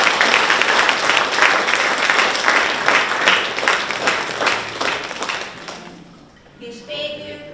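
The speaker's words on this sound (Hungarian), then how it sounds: "köszönjük meg egy nagy tapssal!" An audience gives a big round of applause, dense and loud for several seconds, then fades out as a voice begins speaking.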